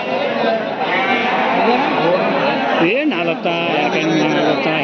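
Sheep and lambs bleat loudly and close by at a crowded sheep market, one clear rising bleat standing out over a dense, continuous background of bleating and people talking.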